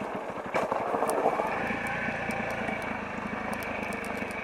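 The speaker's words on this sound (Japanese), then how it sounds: "エンジンブレーキのバックトルクを利用してそのままつるっと下っているんですが" A Honda CRF250L dual-sport motorcycle engine-brakes down a steep forest trail, its single-cylinder engine droning steadily close by with a rough, uneven burble and no voices.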